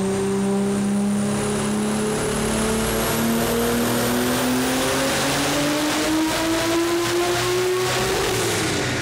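A tuned Audi RS4 B5 sedan engine runs on a dyno, loud and close, its revs climbing steadily as the note rises throughout, with no voices.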